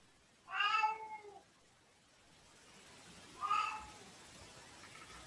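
A house cat gives two separate meows a few seconds apart, the first drawn out and the second shorter, both nearby but fairly soft against a quiet room.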